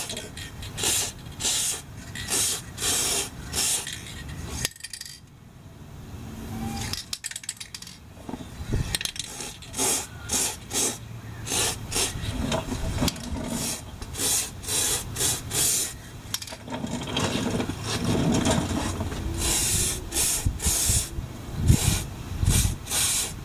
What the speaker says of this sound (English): I'll spray this with again, I'm just using this WD-40 dry lube